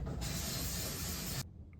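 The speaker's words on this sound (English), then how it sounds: "Sharpening things with whetstones has gotta be one of my favorite things to do" A hand-forged chisel drawn across a whetstone gives one steady, loud, gritty scraping hiss that lasts just over a second and then stops abruptly, leaving quiet room tone.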